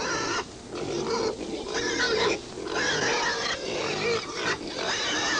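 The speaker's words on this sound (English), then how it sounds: "Pigs have always been a favorite animal of mine." Pigs grunt and snort almost without pause, a steady rough chorus close by with no voices over it.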